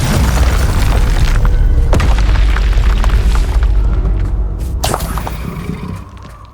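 Spell blasts and explosions from Hogwarts Legacy combat, a loud continuous barrage of booms, thuds and shattering impacts that holds strong before fading out toward the end.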